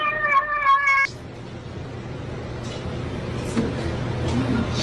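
A cat lets out one short, clear meow at the start, followed by a quieter stretch of low background rumble with faint scattered sounds.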